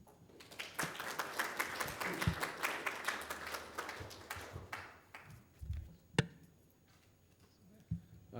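An audience at an academic forum on politics and new media gives a fairly faint round of applause, scattered claps swelling then thinning out into a few isolated taps.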